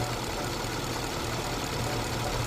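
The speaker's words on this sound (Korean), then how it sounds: "엔진 사운드 먼저 한번 들어보시기 바랍니다" Steady, unbroken rumble of a Genesis EQ900 5.0 engine with 330,000 km, idling nearby, loud and even throughout with no other sounds.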